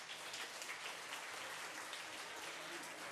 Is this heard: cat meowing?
no